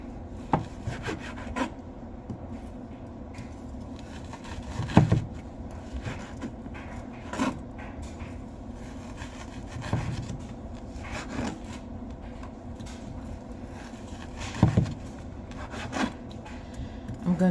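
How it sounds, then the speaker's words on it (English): A knife slicing partially frozen beef into thin strips, heard as steady rasping, rubbing cuts with sharper knocks of the blade against the board every few seconds, close and fairly quiet with no talk. "By it being partially frozen, it makes it easier to cut."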